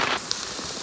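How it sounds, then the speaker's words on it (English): Rain coming down steadily on a hunting ground blind during an archery elk hunt, a dense, even hiss of drops on the surface, louder at the start and then settling into a softer continuous patter. "We got rained out. It's coming down."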